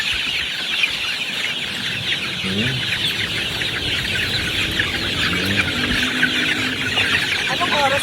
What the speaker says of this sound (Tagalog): Yan po yung mga sisiu.